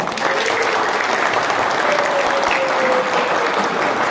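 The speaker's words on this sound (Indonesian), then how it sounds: "Tepuk tangan." Guests clap continuously at a wedding ceremony, a dense steady applause from a moderate-sized crowd lasting the full few seconds, heard from a short distance.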